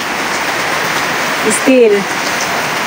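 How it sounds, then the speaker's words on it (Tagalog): Heavy typhoon rain pours steadily outside a house in a dense, continuous hiss, with a brief murmur of a voice partway through. "Still continuous ang pag-ulan at malamig na ang panahon guys."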